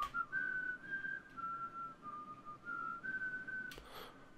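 Several whistled tones stacked in layers, split left and right, over a backing made from hand sanitizer sounds with reverb and delay; the steady melodic lines run throughout, with a brief rising whistle near the end.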